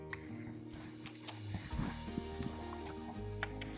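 A horse moving through bitless training work, with steady low hoof and body sounds carrying throughout at a moderate distance and no talk over it.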